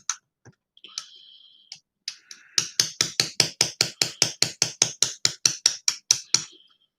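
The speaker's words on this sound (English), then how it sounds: "I'm gonna look at the hammer before I start it." A hand hammer used in horimono work strikes in a steady, rapid run of about seventeen sharp, close taps, after a few scattered knocks and a brief scraping whine.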